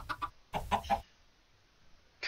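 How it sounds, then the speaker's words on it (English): Chickens clucking in Minecraft, two short bursts of game clucks close together at the start, a quiet pause, then another cluck at the end. "Chickens everywhere."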